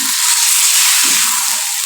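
Yogurt and spice paste are stirred into chicken karahi cooking in a pan, giving a steady bright sizzle and hiss that runs the whole time, with a soft scraping stir underneath.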